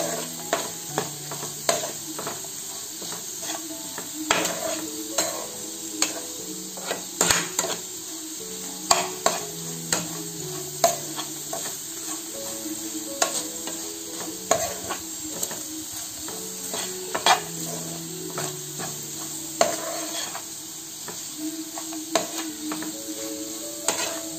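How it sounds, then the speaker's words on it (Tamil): A spiced potato masala with turmeric, garam masala and chili powder is stirred as it fries in a pan, a steady sizzle with repeated scraping strokes of the spoon throughout and no talking. "இதை நல்லா நம்ம மிக்ஸ் பண்ணிக்கலாம்."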